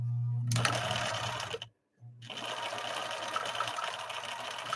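A Viking 6020 sewing machine stitching up close, a loud steady mechanical whir with a rhythmic hum that cuts out briefly into silence, then starts again and runs continuously.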